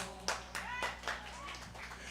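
Audience at a blues band show clapping together for the group, a steady wash of applause with a few sharp claps standing out, over a low hum from the room.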